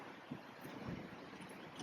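Wind gusts across an outdoor Veterans Day ceremony in a park memorial grove, a faint low rumbling buffet against the microphone that stays steady throughout.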